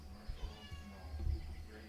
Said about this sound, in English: And now the cat's going.